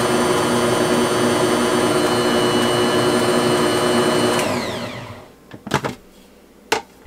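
A Bosch stand mixer stirring flour under its cover, a loud steady motor whir that runs, then spins down and stops, followed by a few sharp clunks of handling.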